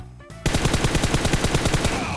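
Automatic gunfire in the mobile battle royale game PUBG Mobile bursts in after a short quiet lead-in, a rapid, loud, evenly spaced string of shots running to the end.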